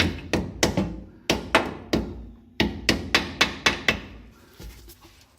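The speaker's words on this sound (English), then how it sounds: "we're just gonna try a few love taps from the hammer here" A series of sharp hammer taps, about a dozen, tapping a pinion seal into place on a 1976 Chevrolet Nova, struck in quick uneven bursts with short pauses between groups, close and fairly loud.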